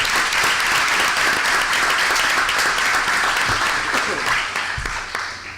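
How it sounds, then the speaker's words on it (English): An audience applauds its sixth grade representatives at a school board meeting, a dense burst of many hands clapping that holds steady and then thins out toward the end. "let's just give a round of applause to our wonderful 6th grade representatives"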